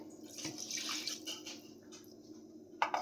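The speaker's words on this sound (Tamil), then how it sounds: "அதிலே கொஞ்சம் தண்ணி சேர்த்து இதில் ஊற்றுறேன்" Water mixed with ground masala is poured from a mixer jar into a pot of mutton curry, a faint, brief splashing trickle.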